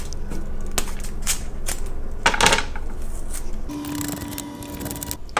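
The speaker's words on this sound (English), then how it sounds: "So I'm gonna cut some onion." A knife slices white onion on a cutting board for fermented vegetables, producing a run of crisp irregular chops and crunches close by, with one louder burst of crunching midway and a faint background hum.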